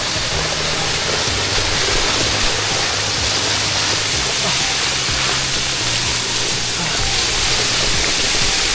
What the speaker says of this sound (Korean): 지금 폭포 거의 앞에 나왔습니다.